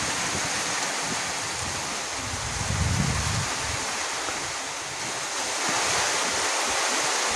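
Heavy, continuous rain pours down over a village in a steady broadband wash, dense and unbroken throughout with a slight low rumble swelling near the middle; no voices.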